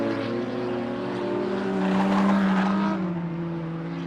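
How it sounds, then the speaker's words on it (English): A Porsche race car runs on an oval stockcar circuit at a Border Stockcars meeting, its engine drone rising as it comes closer and fading as it passes, heard alone with no talk. "The Porsche coming through. Who would have thought you'd see a Porsche on the oval circuit?"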